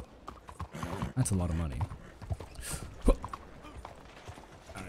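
Horse hooves clip-clop in Red Dead Redemption 2 amid a brief whinny and game clatter, moderately loud, while a player talks over the scene.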